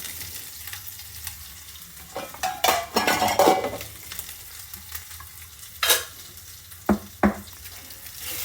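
Okra frying in a pan with green chili and ginger paste, stirred with a metal spoon: a low sizzle with scraping strokes and a few sharp clinks of utensil against pan, no voices.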